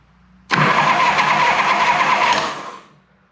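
The rear cylinder of a 1982 Harley-Davidson FXR Shovelhead engine is cranked over by the starter during a compression test, a loud continuous whirring churn lasting about two seconds before cutting off and fading.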